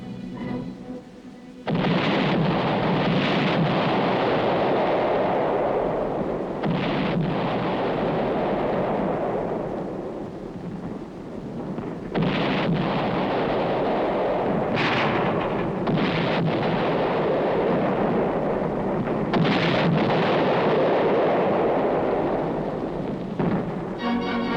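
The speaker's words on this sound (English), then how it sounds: "the infantrymen prepare to blast the Reds from still another hilltop with coordinated fire" Coordinated artillery fire with high explosive shells pounds an enemy-held hilltop in 1951 Korean War combat footage, a series of heavy booming blasts with long rumbling tails, loud and continuous, some sharper reports among them.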